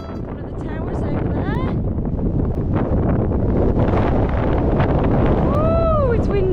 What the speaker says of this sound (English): Oh, it's windy. Really windy.